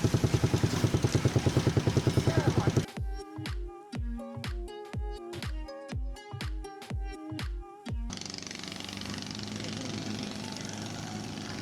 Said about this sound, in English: Those noises in the background are the motors on these longboats.